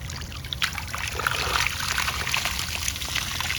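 Water and sand run out of a pool sand filter tank, a steady close trickling and gurgling flow with a low rumble underneath, continuous throughout.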